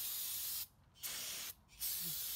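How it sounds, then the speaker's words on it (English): Brake cleaner aerosol sprayed onto the front brakes of a 2015 Volkswagen Passat: three steady hissing bursts with two brief pauses between them, close and alone. "let's just spray some brake cleaner on there."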